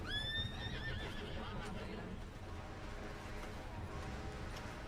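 A horse in the video game Red Dead Redemption 2 gives a loud, shrill neigh that rises and trails off, followed by a low rumbling background with faint hoof sounds.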